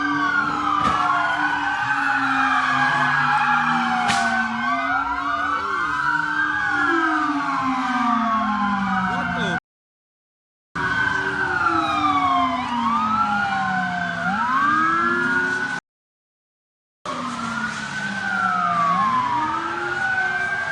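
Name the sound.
ambulance siren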